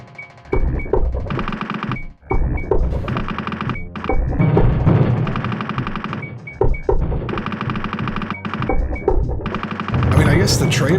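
Mech-mounted machine gun in a MechWarrior video game fires in long sustained bursts with brief pauses, loud and close, running almost continuously throughout.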